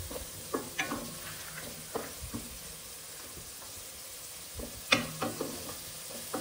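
Onion fries in a pan for a radish curry, giving a low, steady sizzle broken by scattered clinks and taps of a utensil against the pan, with a louder clatter near the end.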